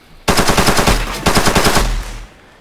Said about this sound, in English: we have a weapon hooked up that actually fires